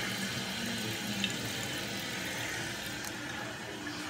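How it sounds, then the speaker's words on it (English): Water rushes steadily into a toilet tank, a constant hissing, splashing flow heard close up with no talking. "There you go, water's filling up."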